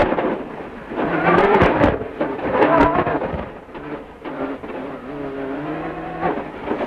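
A Ford Focus rally car at a World Rally stage roars loudly and continuously nearby, its engine note rising and falling through quick gear changes with a harsh, rough edge throughout.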